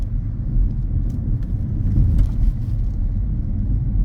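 A car rolls steadily through a mini roundabout in a quiet road-driving interior, with a continuous low engine and road rumble and no sharp events. No one talks over it.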